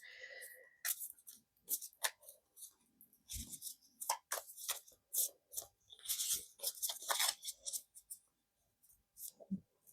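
A deck of Turning Terrestrial Tides Tarot cards is shuffled by hand, giving sparse, quiet bursts of papery riffling and clicking with short pauses between them.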